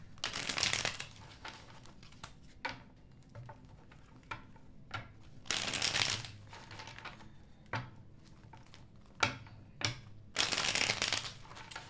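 Tarot cards shuffled by hand in repeated bursts, crisp riffling and flicking close up and quiet, with short pauses between shuffles.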